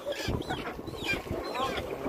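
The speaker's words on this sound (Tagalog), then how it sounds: "kakaibang manok din to" Chickens cluck and call close by among other fowl, several overlapping bird voices over a steady low background.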